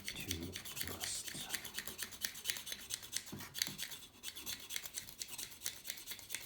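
Rust being scratched off old Honda C70 motorcycle parts, a rapid run of dry rasping strokes up close, steady and repeated for several seconds with brief pauses.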